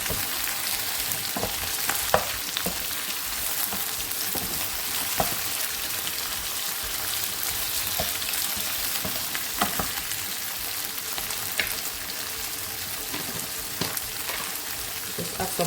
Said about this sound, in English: tomatoes, stir everything well to combine.